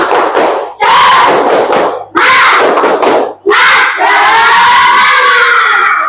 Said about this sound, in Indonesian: Sebelum lanjut, tepuk semangat dulu yuk.